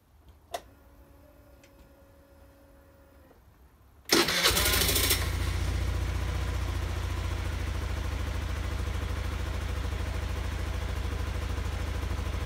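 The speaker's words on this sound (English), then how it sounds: "I'll start the bike up and run it for 3 minutes" Suzuki Address 110 scooter in a garage: a few faint clicks and a whirring starter, then the engine catches with a sharp burst and settles into a steady, close idle that continues evenly to the end.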